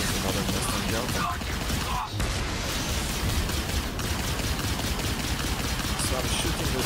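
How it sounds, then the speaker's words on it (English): Space-combat weapons and missiles fire continuously during a Star Citizen dogfight against a Mustang Delta. The dense, loud barrage runs under someone talking. "So I'm shooting with my missile immediately"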